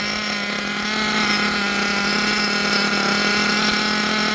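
Nitro RC engine idling during break-in, a steady high buzzing drone with a constant tone, loud and close throughout with no talking.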